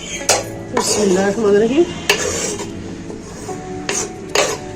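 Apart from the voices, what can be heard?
mixing spices into the potato filling for aloo paratha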